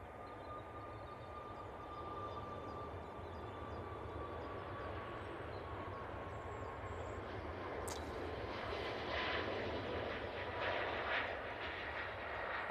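A Malta Air airliner on its takeoff roll at Manchester Airport: a steady, fairly distant engine roar that swells gradually, carrying a faint whine, with no talk over it.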